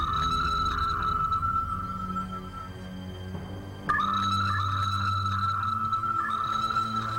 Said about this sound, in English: The sophisticated sound system will blast sounds of what are claimed to be actual audio recordings of vocalizations from creatures similar to the Skookum wildmen.